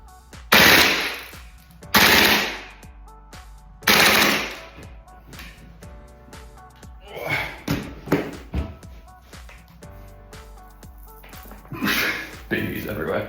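A Tokyo Marui MWS airsoft rifle, short-stroked and fitted with a new spring, fires in a rate-of-fire test. Sharp, loud single shots come at intervals, followed by lighter clatter and taps.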